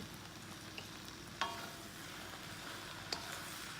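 Vegetables stir-frying in Korean sauce, a soft continuous sizzle with a couple of light clinks of a utensil against the pan, quiet and close, no voices.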